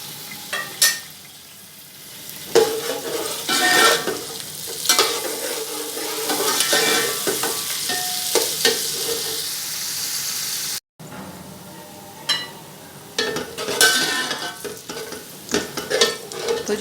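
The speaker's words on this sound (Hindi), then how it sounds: "चलिए जी, ऑयल गर्म करके इसमें प्याज ब्राउन होने के लिए डाल देते हैं।" Onions browning in hot oil with garam masala for potato tahari, a steady sizzle broken by frequent stirring scrapes, close and fairly loud, with a brief drop in the middle.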